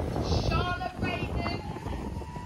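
Gusty wind buffets the microphone with a low rumbling roar at the Brighton Half Marathon, and a voice speaks briefly over it.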